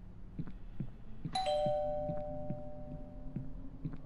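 A doorbell in the horror video game Hellseed chimes once at about 1.3 seconds, a bright ringing tone that decays slowly over a steady low rhythmic background of repeating thuds.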